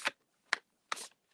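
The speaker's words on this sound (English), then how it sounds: "I'm shuffling for you now." Oracle cards are shuffled in three quick, close, soft riffling bursts separated by brief silences, quiet and with no talking.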